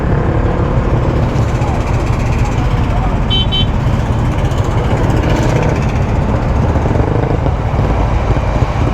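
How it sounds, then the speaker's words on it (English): High-powered motorcycles run together before an early-morning group ride to Desaru, giving a steady, dense engine rumble that continues throughout, with a faint murmur of voices in the background. "Semua motor power-power ni."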